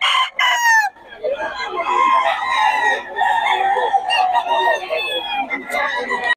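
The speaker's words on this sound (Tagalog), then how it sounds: "So, solid ang mga manok ni Boss Rod niya." Roosters and hens at a Bocaue market stall of fighting cocks crow and cluck in a dense, continuous overlapping chorus, loud and close, with one crow after another for several seconds.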